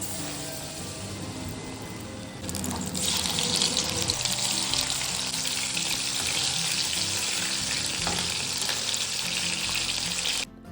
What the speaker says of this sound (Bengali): আর এইদিকে খাওয়ার আগে গরম গরম ভেজে নিচ্ছি তোপসে মাছ